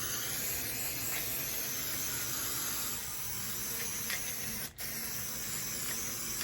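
Continuous spray adhesive hisses nearby for several seconds, with one brief break near the end.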